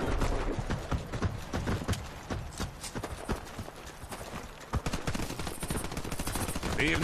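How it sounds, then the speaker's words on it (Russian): Rapid machine gun fire in the video game Warface during a clan-war match, bursts of sharp repeated shots with a dense rattling rhythm, loud and close, mixed with other in-game gunfire throughout. "Пулемет."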